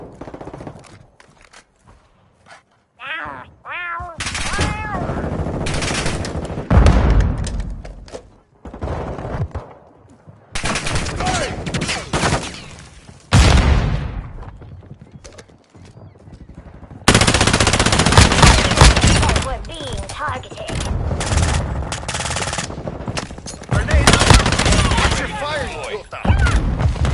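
Automatic and machine gun fire in Call of Duty: Modern Warfare II multiplayer, loud sustained bursts with gaps, alongside explosions, thuds and footsteps, with in-game radio voice callouts speaking over the action.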